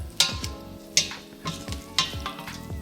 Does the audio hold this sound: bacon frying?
yes